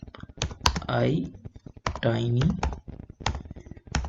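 A computer keyboard clicks in short bursts of typing while someone talks over it, the keystrokes close and fairly crisp.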